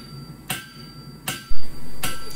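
A 5-pound Brent Bailey cross peen hammer strikes a hunter-style blade on a new shop anvil: three sharp, ringing metallic blows spaced well apart, close and loud, with a deep thump and sustained ring near the end.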